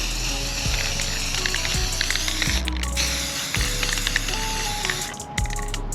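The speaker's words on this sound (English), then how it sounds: "now we're gonna spray paint them red." Aerosol spray paint hissing onto Dodge Charger rear diffuser parts being coated red, a continuous close hiss with faint clicks and rattles underneath.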